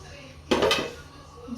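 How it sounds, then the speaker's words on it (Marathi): Metal pots and dishes clatter as they are put away while a kitchen counter is cleaned: one loud clanking burst lasting about half a second, then quiet room noise and a small knock at the end. "ते जे नको ती भांडी सगळी ना जागच्या जागी ठेवते"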